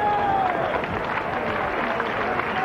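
A stadium crowd at a 1983 Scottish Premier Division match between Dundee United and Hibernian applauds a substituted player, steady distant clapping under a commentator's voice.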